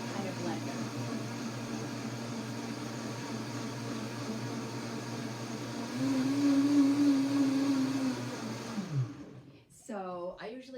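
A Vitamix blender blending soaked nuts runs with a steady, loud whir that rises briefly in pitch, then winds down and stops, followed by a short voice.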